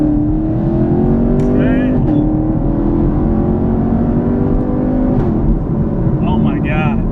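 A 2016 Chevrolet Camaro SS with an automatic transmission accelerates hard, its engine note rising loudly and steadily, with brief shifts. Someone speaks over it.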